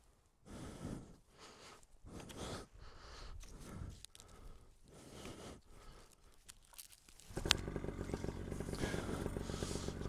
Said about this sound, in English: Let's start the motor.